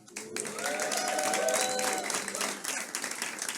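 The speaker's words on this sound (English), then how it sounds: "Give yourself a round of applause, please." Comedy club crowd at Club Haug in Rotterdam applauding, a burst of clapping and cheering that swells quickly and holds, with a few whoops and voices mixed in before it thins out near the end.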